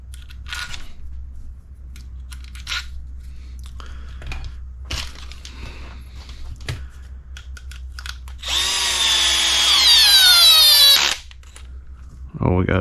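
A power tool drives long screws into the diff plate of an HB Racing E819RS RC car, one loud, rising whine of a couple of seconds after a stretch of quiet handling clicks and brief talk.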